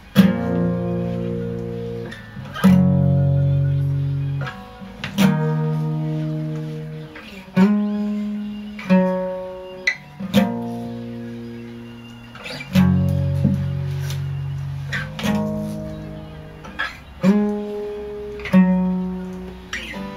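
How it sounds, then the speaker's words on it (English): An electric guitar plays chunky power chord riffs, strummed bursts that ring and decay in a repeating pattern, steady and close with no voices. "the first few riffs are going to sound a bit like this"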